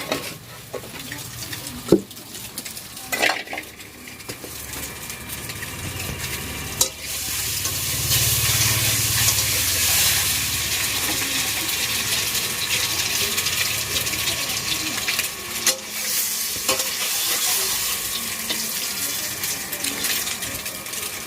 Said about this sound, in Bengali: ডিমগুলো লাল লাল করে ভাজতে হবে